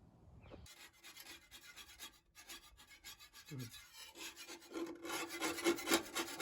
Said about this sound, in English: our job right now is to scrape all of this off to the metal